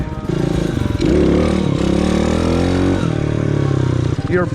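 Motorcycle engine revved with the clutch in while going slow for a beginner wheelie, loud close blips rising and falling in pitch over a steady idle.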